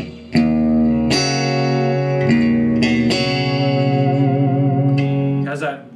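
Electric guitar through a Mission Engineering Gemini setup with a lush chorus tone: a run of chords and single notes struck one after another, each ringing out long and shimmering, loud and alone.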